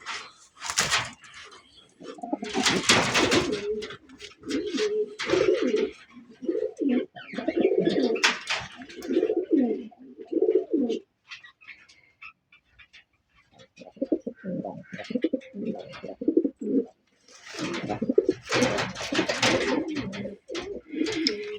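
Domestic pigeons cooing in a breeding loft: close, repeated throaty coo bouts in uneven rhythm, separated by short quiet gaps.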